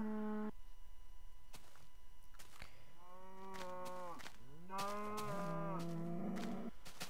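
Cows mooing in the Minecraft video game, several drawn-out moos in succession, fairly close and clear over a quiet background.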